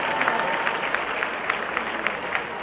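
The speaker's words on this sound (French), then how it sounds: "on applaudit très fort pour moi" A comedy show audience claps loudly and continuously, many hands blending into a thick wash with sharper individual claps popping through at irregular moments.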